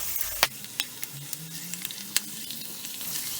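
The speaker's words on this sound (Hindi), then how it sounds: "अब इन सब को थोड़ा फ्राई कर लेंगे अच्छे से।" Spices and curry leaves sizzle steadily in hot oil for a South Indian carrot pickle, a continuous close crackle broken by a few sharp spatters and faint utensil taps.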